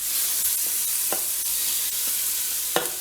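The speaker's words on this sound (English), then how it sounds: "we'll get our beef in to brown it off a bit" Chunks of beef browning in a hot pan for an Italian beef stew (spezzatino di manzo), a steady bright sizzle running throughout with a few soft stirring scrapes and clicks, close and continuous, no voices.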